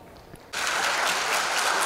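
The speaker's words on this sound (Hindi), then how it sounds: "परनीत कौर के लिए एक बार जोरदार तालियां जी" Applause for contestant Parneet Kaur at a TV talent show grand finale bursts in after a quiet half second, then continues as a full, even wash of clapping from a large studio audience, with no talk.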